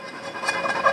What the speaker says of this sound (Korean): 닦으면은 뽀도독하게 이렇게